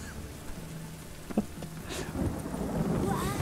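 Rain patters steadily while a low thunder rumble rolls in and swells toward the end, with a few brief clicks and tones layered over the storm in the video game The Witcher 3.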